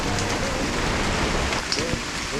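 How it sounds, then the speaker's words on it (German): Heavy rain pours down outdoors beside a garden shed during a European bicycle-trailer trip, a dense, steady, close hiss that never lets up. "Ziemlich viel Regen rausgestellt."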